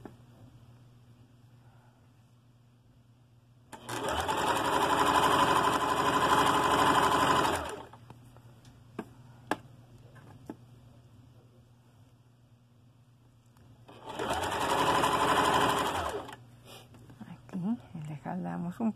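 Sewing machine stitching seams on a women's halter dress, running in two sustained bursts of about four and two seconds separated by a quiet pause, with faint background hum between them.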